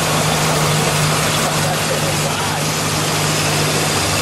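1969 Chrysler 300 convertible engine idling, a loud, steady, even rumble that stays constant throughout with no talk over it.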